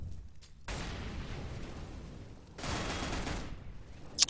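Burst of gunfire in an esports video game match, with sustained rapid shots in two loud clusters and a brief sharp crack near the end, no talk over it.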